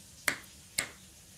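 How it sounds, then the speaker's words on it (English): Two crisp finger snaps about half a second apart, close and sharp, with quiet room tone between and no talk. "do not snap those fingers at me!"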